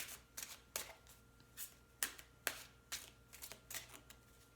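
A tarot card is drawn from a deck, with a string of soft, quiet card flicks and sliding shuffles in an irregular rhythm, heard close up with no talking.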